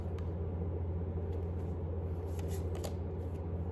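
Tarot cards being shuffled in a steady, continuous riffle close by, set against a constant low rumbling hum, with no talking.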